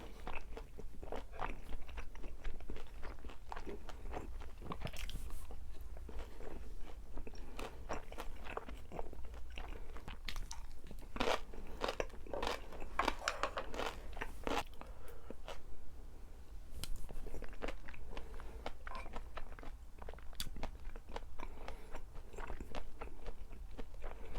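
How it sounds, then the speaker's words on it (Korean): Crunchy fried pork guobaorou being bitten and chewed close up after dipping, with repeated crisp crunches and moist chewing over a quiet background, no talking. "개인적으로 꿔바로우를 찍어 먹는 것도 맛있네요."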